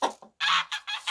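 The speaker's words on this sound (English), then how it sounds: "now the geese are starting up" Backyard geese honk in a quick series of loud, close, harsh calls, three or four blasts in about a second with no talk.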